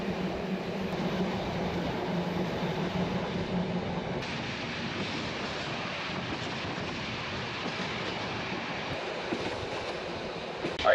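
Passenger train between Sofia and Bucharest, heard from on board: a steady rumbling roll on the rails with faint clatter and a constant hiss of wind, continuous and close, with no speech.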